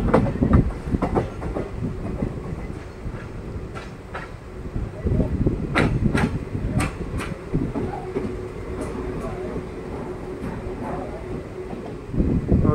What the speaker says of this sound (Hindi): हम अपना दोस्तों मोगा रेलवे स्टेशन पर अराइवल ले रहे हैं